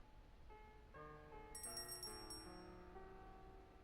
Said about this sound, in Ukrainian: Так, дзвоник.